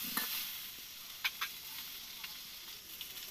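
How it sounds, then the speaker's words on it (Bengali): Potatoes frying with salt and turmeric in a pan over a clay stove, a soft continuous sizzle with a few faint stirring clicks. "এখানে আমি আলুটা ভেজে নিচ্ছি একটু নুন আর একটু হলুদ দিয়ে।"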